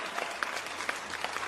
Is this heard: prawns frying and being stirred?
no